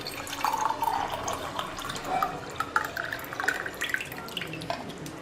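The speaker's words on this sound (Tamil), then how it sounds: "கடாய் ஹீட் ஆனதுக்கப்புறம் இதில் வந்து 3 கப் தண்ணி சேர்த்துக்குங்க." Water poured into a hot kadai for samba rava kesari, a soft trickling and splashing stream with bubbly drips, fairly quiet and close, no talk.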